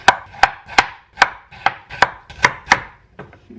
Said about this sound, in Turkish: Bunları şimdi küçük küçük küçük küçük doğruyorum.